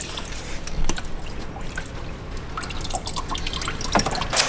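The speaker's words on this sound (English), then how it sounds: "Just while everything's dripping into the actual reservoir itself" Coolant drips into a car's coolant reservoir after a silicone radiator hose install on a cold day, giving faint, irregular liquid drips and trickles over a steady background hiss.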